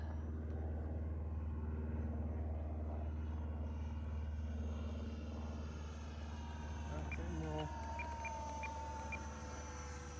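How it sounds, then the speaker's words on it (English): A full-size aircraft flies overhead at an RC model jet flying field, a steady droning engine roar that stays loud throughout, with people talking underneath. "We've got a real life aircraft that we have to keep stopping flying because it keeps flying over."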